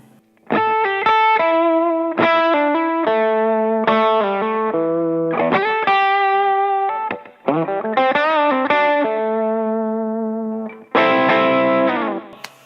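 Overdriven electric guitar with humbucker pickups plays thick, distorted chords and riffs with sustained, ringing notes and short pauses between phrases, loud and close.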